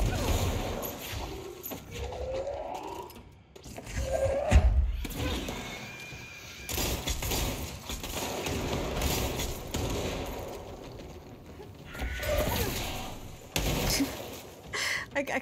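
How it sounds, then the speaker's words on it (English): Objects hurled by telekinesis in the video game Control: repeated heavy thuds, crashes and impact bursts amid gunfire-like cracks and whooshes, irregular and loud, under a person talking. "I like the strategy of just throwing stuff"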